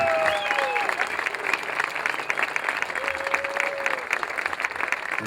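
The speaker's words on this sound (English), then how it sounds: "Let's give all our Vietnam veterans a big round of applause and a big welcome home." A crowd at a veterans memorial in Lansing applauds Vietnam veterans with steady, dense clapping, mixed with scattered whistles and cheers.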